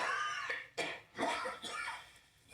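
A person coughs several times in quick, harsh bursts, close and fairly faint, with short pauses between the coughs.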